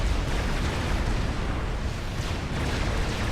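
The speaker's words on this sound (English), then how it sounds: "Another TAC missile barrage incoming." Tactical missile barrage explosions in Supreme Commander, a dense, continuous roar of overlapping blasts and booms at steady loudness with no voices, sounding like a base under heavy bombardment.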